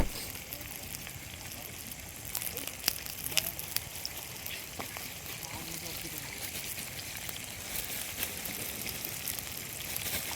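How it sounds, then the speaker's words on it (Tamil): Onions sizzling and frying steadily in hot oil for a chicken kaadu varuval, a continuous crackling hiss with scattered pops, fairly quiet and unbroken throughout. "எண்ணெய் சூடாகிடுச்சு, வெங்காயத்தை போட்டுக்கலாம். நல்லா வதக்கிக்கலாம்."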